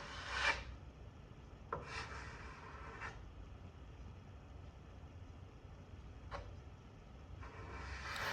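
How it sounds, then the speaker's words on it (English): Sparse, faint rubbing strokes of 220 grit sandpaper on a vintage wooden bench, a few short rasping passes spread over a quiet background. "I sanded everything back a bit with a 220 grit sandpaper to smooth it all out"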